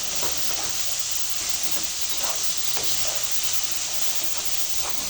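Garlic paste and ginger paste fry in hot oil with a steady, loud, hissing sizzle that holds for several seconds, broken by a few faint spatters and pops.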